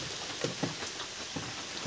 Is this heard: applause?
no